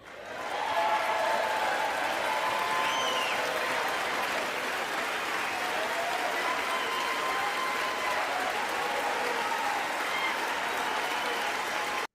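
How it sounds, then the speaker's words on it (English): An audience applauds at the State of the Union address, a dense, sustained wash of clapping from a large crowd that swells in quickly and holds steady for about twelve seconds. "Why are they clapping like he said something like profound?"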